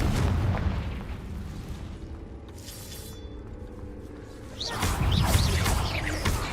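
A Confringo fire spell goes off in the video game Hogwarts Legacy with a loud booming blast and roar at the start, a quieter fizzing lull, then a second heavy explosive burst near the end.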